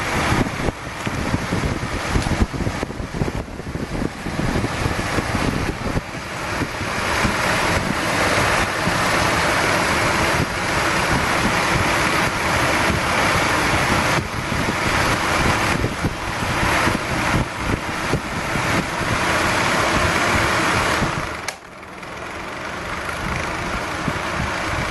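An exhaust fan for a powder-coating CNC setup blows a steady, loud, broadband rush of air that fills the whole stretch, with one brief dip near the end.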